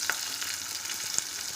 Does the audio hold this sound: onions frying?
yes